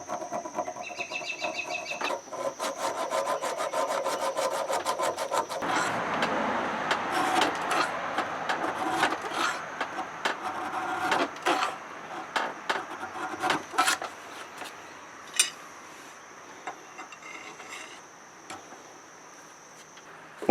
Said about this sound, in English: I'm going to start filing here.